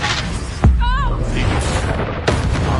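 A Confringo blasting spell in Hogwarts Legacy lands as a loud booming burst, with a quick whistling streak before it, set against continuous game sound and a sharp second impact near the end.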